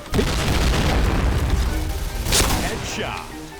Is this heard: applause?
no